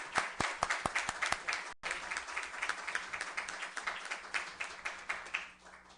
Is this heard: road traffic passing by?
no